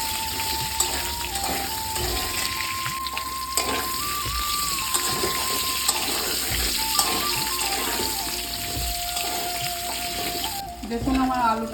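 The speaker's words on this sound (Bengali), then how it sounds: "এরপর কড়ার মধ্যে আমি আরও কিছুটা সরষের তেল দিয়ে দেবো। তেলটা গরম হবে, আলুগুলো ভালোভাবে ভেজে নেব।" Potatoes fry in hot mustard oil in a kadai, a continuous steady sizzle with occasional stirring clicks and a faint tonal hum running underneath.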